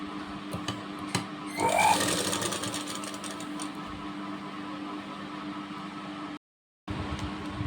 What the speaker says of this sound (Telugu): ఇప్పుడు దీన్ని మళ్ళీ రెండో కుట్టు వేసేసుకుందాం